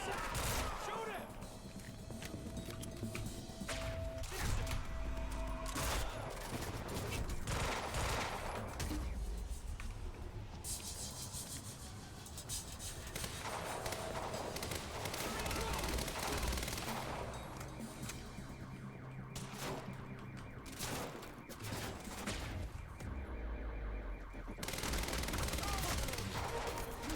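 Exchange of gunfire in the video game Quantum Break, with bursts of automatic fire and scattered shots running through a dense, busy game mix, while voices talk intermittently over the action.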